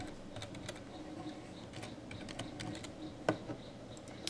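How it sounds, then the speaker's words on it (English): Keystrokes on a computer keyboard while entering label text in App Inventor 2, a quiet, irregular patter of light clicks with one sharper tap, close and steady with no talk. "we'll type in where it says text, we'll type in misses"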